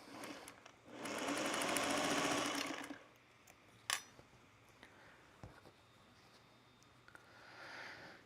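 A sewing machine runs in one steady whirring burst for about two seconds while stitching quilt pieces for a spool quilt top. Scattered clicks and small knocks follow in a quiet room.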